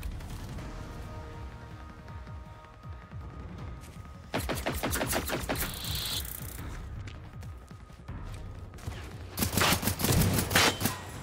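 Gunfire in the video game Generation Zero: loud rapid bursts of automatic fire come in two sustained volleys, with quieter ambient game sound between them.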